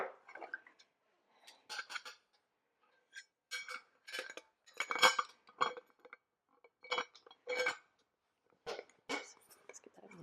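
Metal springform cake pans clink and rattle as they are handled and fitted together in a home kitchen, a series of sharp irregular metallic knocks and scrapes with short pauses between them, close to the microphone.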